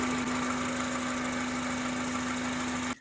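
A car engine idles steadily for about thirty minutes into bleeding air from the coolant system, a constant hum with a strong steady tone that cuts off abruptly at the end.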